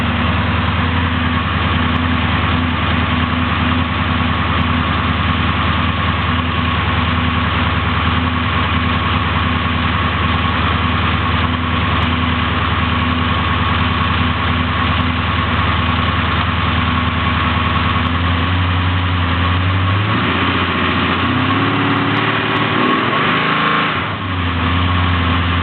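A 383 small-block Chevy V8 idles steadily while warming up, a loud, close, continuous rumble that holds even for most of the stretch before shifting and roughening briefly near the end.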